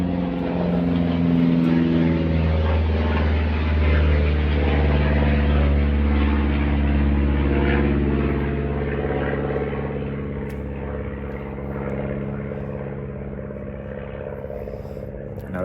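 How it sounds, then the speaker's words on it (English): A loud helicopter flying overhead, its steady droning hum holding strong for several seconds before easing slightly as it moves off. "Now that's one loud helicopter."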